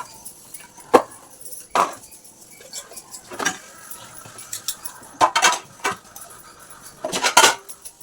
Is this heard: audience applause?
no